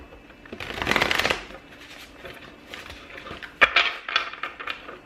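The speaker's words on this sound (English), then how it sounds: "Let's keep shuffling." Tarot deck being shuffled by hand, a close riffling rush followed by softer card slides and a few crisp snaps, with no voices.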